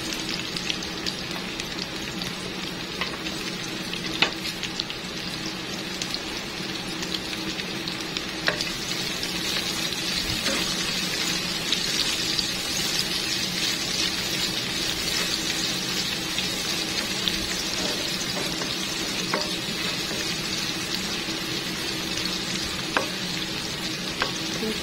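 Chopped onions sizzle and fry steadily in hot oil in a pan while cooking pork afritada, with occasional stirring scrapes and small pops over a continuous, even crackle and no talking.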